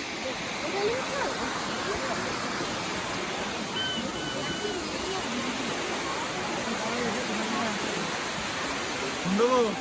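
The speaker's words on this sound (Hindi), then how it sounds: "Look at the waterfall." Elephant Falls waterfall in Meghalaya, a steady broadband rush of falling water running through the whole clip at moderate level, with faint voices and birds in the background.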